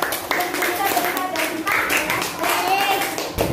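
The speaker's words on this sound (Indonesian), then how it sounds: "Kita beri tepuk tangan untuk kelompok 4." A classroom of students applauds a group of classmates after their presentation in a teaching-practice lesson, a steady burst of clapping lasting a few seconds with voices mixed in.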